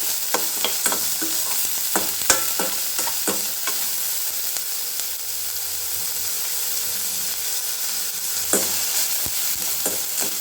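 Onions sautéing lightly in a pan, a soft continuous sizzle with scattered scraping taps from stirring, fairly quiet and close, no voices.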